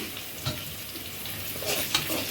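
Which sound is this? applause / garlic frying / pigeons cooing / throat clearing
garlic frying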